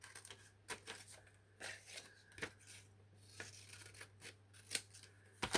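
Scissors snip through thin printed paper of scanned vintage letters, a quiet, close series of irregular crisp cuts with rustling paper handling between them.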